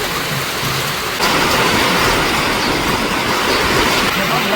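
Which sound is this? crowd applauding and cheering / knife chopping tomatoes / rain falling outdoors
rain falling outdoors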